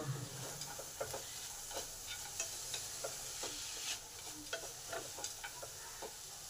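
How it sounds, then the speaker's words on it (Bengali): Red amaranth greens fried with crushed peanuts and bori are stirred in a pan, steady sizzling broken by repeated scraping and clacking of the spatula at an uneven rhythm, close and with no speech. "আরও 2-1 মিনিট নেড়ে নেব, নিলেই আমার রান্না কমপ্লিট হয়ে যাবে।"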